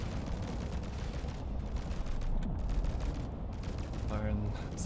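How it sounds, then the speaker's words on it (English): Trident missiles launch in a Space Engineers PVP tournament match, giving a continuous rumbling barrage of firing and explosions with a dense, steady texture, while voices commentate over it. "Firing some Tridents there towards Tysel."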